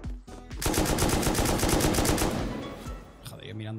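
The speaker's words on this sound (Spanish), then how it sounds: "están campeando con ametralladoras aquí" Rapid automatic machine-gun fire in a multiplayer shooter game bursts loudly and continuously for about two seconds, then tails off into scattered game sounds.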